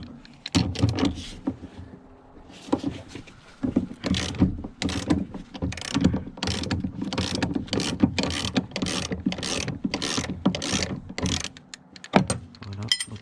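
A ratchet wrench loosens a 17 mm nut on a Ford Fiesta Mk3 shock absorber, giving fast repeated metallic clicks in uneven bursts, close and fairly loud, with no talking.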